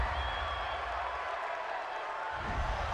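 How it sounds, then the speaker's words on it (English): At a football stadium, a large crowd roars in a broad, sustained wash of boos and shouts after a roughing-the-passer penalty, steady and loud throughout, with no talk cutting through. "this crowd does not like that call"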